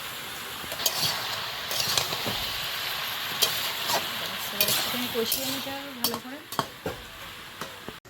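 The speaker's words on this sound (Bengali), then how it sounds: "কুমড়োটা ভালো করে কষিয়ে নিলাম" Pumpkin stir-fried in a pan over an earthen stove, a steady close sizzle broken by repeated scrapes and clinks of the spatula against the pan, with no talking.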